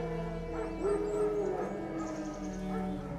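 Wild dogs in The Witcher 3 barking, yipping and whimpering at a moderate distance amid ambient game sound, several short cries in an irregular rhythm, with no talking over them.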